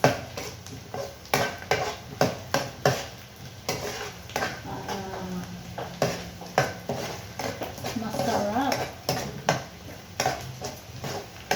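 Garlic and onion sauté in a pan, a soft sizzle under repeated scraping and stirring strokes of a utensil against the metal, close and rhythmic.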